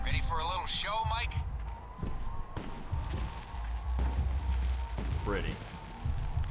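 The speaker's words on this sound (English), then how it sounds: "The noise from those fireworks should cover the sound of gunfire." Fireworks pop and gunfire cracks in the video game Alpha Protocol as repeated sharp bangs scattered through the clip, mixed with game sounds and a voice that keeps talking over them.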